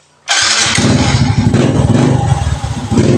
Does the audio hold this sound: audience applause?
no